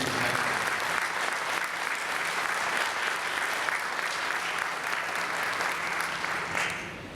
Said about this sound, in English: please give OTHS Educational Foundation member Kane a round of applause